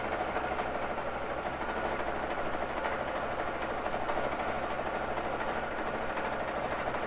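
A Baby Lock Jazz II sewing machine free-motion quilting on a frame makes a continuous, steady mechanical whirring hum at a fairly slow, even pace, close by and uninterrupted.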